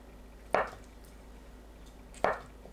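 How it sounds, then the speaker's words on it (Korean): Two distinct knife chops cutting tofu into bite-size pieces, each a short soft thud on a board, spaced well apart, close and clear with a quiet background. "두부를 한 입 크기로 썰어주세요"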